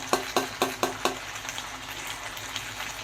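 Masala with a little water sizzles in a pan for a rohu fish curry, opening with four or five sharp scraping stirs before settling into a soft, steady frying hiss with no talk.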